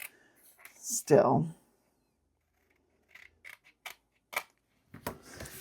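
Scissors cutting paper for a box: one loud, drawn-out snip followed by several short, crisp clicks of the blades, heard close up with a brief spoken word in between.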